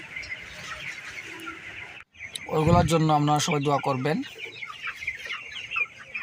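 Broiler chickens on a poultry farm cluck and squawk loudly, with one strong harmonic call standing out near the middle, while someone speaks over the flock.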